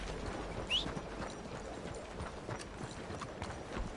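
Horse hooves clip-clopping in Red Dead Redemption 2, a quiet, steady rhythm of repeated hoofbeats continuing throughout, with a brief higher squeak near the start.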